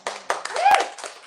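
Audience at a poetry reading applauding the poets, a short burst of close, uneven hand claps from a small group.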